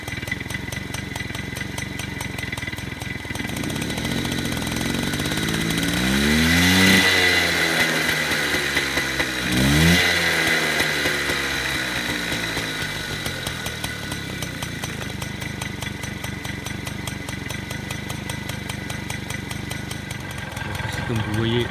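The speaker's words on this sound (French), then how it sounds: "je vais l'accélérer, vous allez voir le moteur va monter." Peugeot 103 MVL moped two-stroke engine with variator buzzes steadily, then revs up twice in sweeping rises and falls before settling back to a rattling idle, close and loud, with a voice speaking over it.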